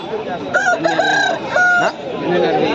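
A black native country rooster of about 2.5 kg crows loudly and close at a busy Sunday poultry market in Pileru, one strained call with faint voices around.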